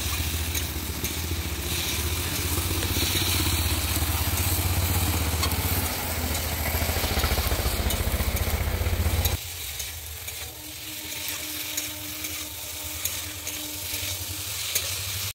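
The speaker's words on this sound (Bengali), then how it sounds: "আমি যে ভেজে রেখেছিলাম ঢ্যাঁড়সটা ওইটা এবারে দিয়ে দিচ্ছি। দিয়ে আমি ভালোভাবে কষিয়ে নেব।" Fried okra stirred with spices and salt in a hot pan for a vegetarian okra-poppy-seed dish, a loud continuous close sizzle that drops noticeably in intensity partway through.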